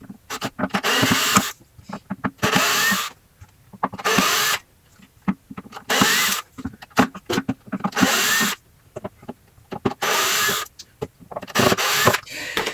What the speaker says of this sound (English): I'm back with a drill